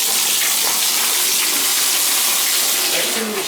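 Water pours steadily from a bathtub faucet in a tub and shower setup with a leak in the wall, a loud, continuous close-up rush with no break.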